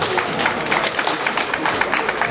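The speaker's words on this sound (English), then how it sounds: "A round of applause, please." A crowd claps steadily in dense, continuous applause, sounding full and fairly close, with no distinct voices standing out.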